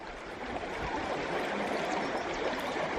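A small river flows steadily at a gold-panning spot beside an old store, a continuous broad rushing and trickling wash of water with no talk.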